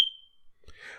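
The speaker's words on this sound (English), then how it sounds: "I got a janky smoke detector they still haven't came" One short, sharp, high-pitched electronic chirp from a faulty smoke detector sounds at the start, followed by quiet with faint rustling.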